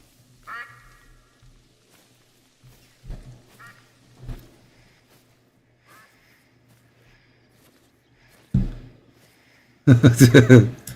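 Ducks quack outdoors in scattered bursts, a few single calls early on, then a loud rapid run of quacks at the end, mixed with moments of nearby voice.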